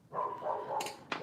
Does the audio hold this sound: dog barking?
yes